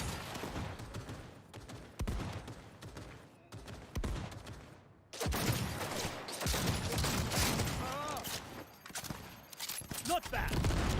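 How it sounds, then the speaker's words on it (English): Grenade toss and gunfire in the video game Cyberpunk 2077: dense crackling gunfire, a sudden loud burst partway through, then continuous chaotic combat noise, with a voice speaking over it. "Nice grenade toss there, champ."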